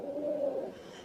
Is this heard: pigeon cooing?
yes